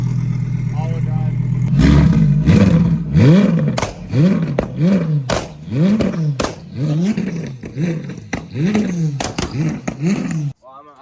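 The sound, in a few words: twin-turbo V10 engine revving and downshifting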